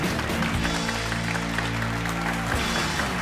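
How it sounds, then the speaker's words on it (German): A comedy club audience in Leipzig applauds loudly and continuously, clapping over a low sustained hum of music. "Leipziger Applaus."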